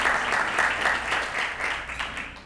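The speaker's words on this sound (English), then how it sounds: "please help me welcome our superintendent, Dr. J.A. Gonzalez." An audience at a Teacher of the Year luncheon applauds to welcome the school superintendent, a dense, steady round of clapping that fades slightly toward the end.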